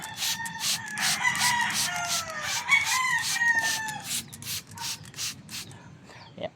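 Roosters crow several times with rising, drawn-out calls amid the clucking of a flock of chickens, fairly close, with a bit of background noise.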